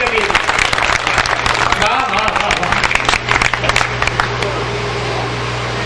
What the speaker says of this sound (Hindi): तो एक बार जोरदार तालियां इन कवियों के लिए